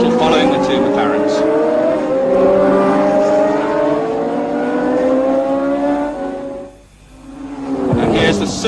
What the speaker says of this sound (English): Now Oertel following the two McLarens